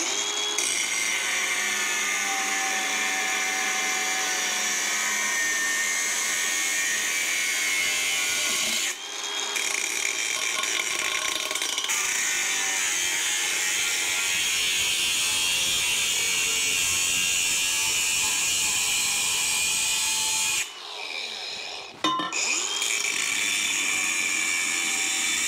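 Power cutting tool slicing through a mechanical clutch linkage part on a workbench, a steady high-pitched whine that runs nearly unbroken and close, dipping briefly twice as the cut pauses.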